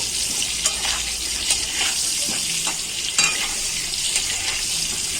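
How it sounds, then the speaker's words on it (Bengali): Potatoes fry in hot oil with turmeric and salt, a steady crackling sizzle broken by the scrape and clatter of stirring. "আলু ভাজা কিন্তু প্রায় হয়েই গেছে আর একটু ভাজবো"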